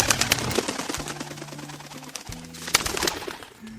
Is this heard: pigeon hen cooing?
yes